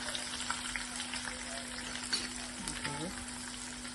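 Faint, steady sizzling of small onions frying in hot oil, a soft crackle throughout with no talking.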